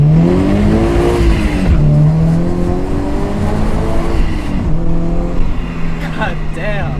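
A supercharged Subaru BRZ with an HKS GT2 supercharger, making about 300 horsepower, revs hard and accelerates. The engine note climbs loudly and close up through repeated pulls, heard from inside the car.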